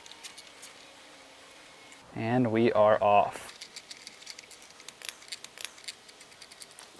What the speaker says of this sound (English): Snip that zip tie.